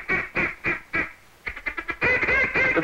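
A hunter's duck call imitates ducks over water, blown in a series of loud, rhythmic quacks, first evenly spaced, then a rapid, choppy run, ending in a sustained raspy sequence.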